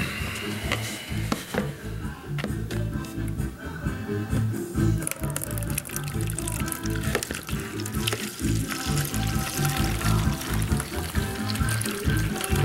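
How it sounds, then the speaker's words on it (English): Wort recirculating back into the mash tun while brewing an all-grain Hefeweizen, a steady close splashing and trickling of liquid pouring into liquid that runs without a break. "recirculating this back into the mash tun"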